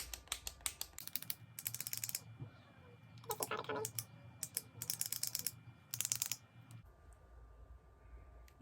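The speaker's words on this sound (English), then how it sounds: "It's just one of those like old-fashioned like clickers." An ELF click-pen concealer is clicked repeatedly to push out product, giving bursts of sharp, rapid plastic clicks close up with short gaps between them.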